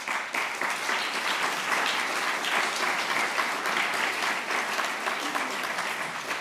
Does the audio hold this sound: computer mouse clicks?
no